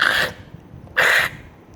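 A voice imitates a rat squeak for a Transformers Rattrap toy with two short, hissy, high-pitched squeals separated by a brief gap.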